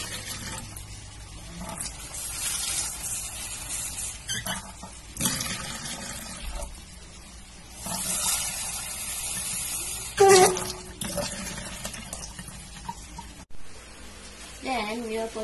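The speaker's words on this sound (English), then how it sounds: "Next, you'll put water into the container." Water is poured into a container in several uneven bursts, splashing and gushing between quieter gaps, with a few light clinks and handling noises nearby.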